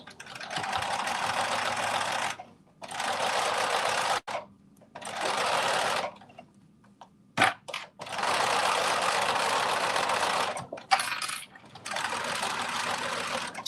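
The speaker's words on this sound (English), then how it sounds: "do not sew to the end" A sewing machine stitches fabric in several bursts of steady whirring, each a second or two long and separated by short pauses, close and clear with a few small clicks between runs.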